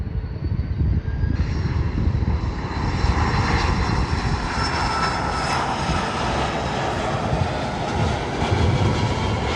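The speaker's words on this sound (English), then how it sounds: "Airbus A330-302 from Finnair, Flight 9, coming from HEL Helsinki." Finnair Airbus A330-302 jet on Flight 9 from Helsinki arriving at Chicago O'Hare, its engines a loud, continuous roar that swells steadily over the whole stretch with no talk.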